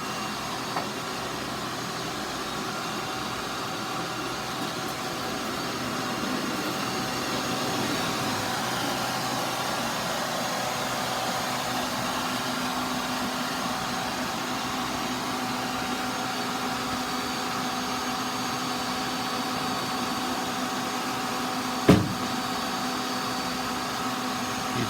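A Wood-Mizer LT40 hydraulic sawmill cutting lumber, a steady, continuous mechanical drone with a faint whine, heard at a moderate distance without variation and with a single sharp knock near the end.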